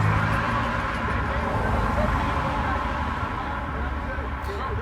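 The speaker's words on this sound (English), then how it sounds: "There's a lot of cars." Continuous traffic roars past on a busy road, a dense rumbling wash of many cars blending into one steady, fairly loud noise with no pauses.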